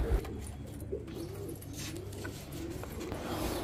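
Young pigeon chicks in a loft coo softly in low, throaty murmurs, close by and faint, heard alone over a quiet background hum.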